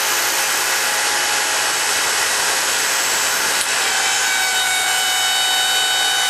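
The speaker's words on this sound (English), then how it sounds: "we've got this massive piece of tubing bent 180 degrees in under 3 minutes on this machine" A JD Squared Model 32 bender pushes 2-inch steel tubing with a 0.250-inch wall toward a 180-degree bend, making a loud, steady broadband machine roar with no speech.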